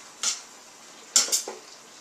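A utensil scrapes and clanks against a pan while a white bean, mushroom and leek stew with vegetable broth is stirred, giving three short metallic strokes close by, spaced unevenly, with quiet between them.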